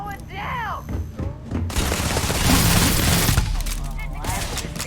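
Rapid gunfire and blasts from a Starfield firefight against alien xenos, a dense roaring volley after an opening of whooshing effects, loud throughout with a shouting voice over the top.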